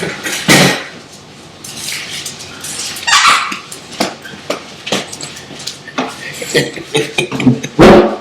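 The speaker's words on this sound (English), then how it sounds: "This is the little doggy that's been making all that racket in the background" A small dog barks repeatedly nearby in short, uneven bursts, with yips and whimpers between them and some background voices.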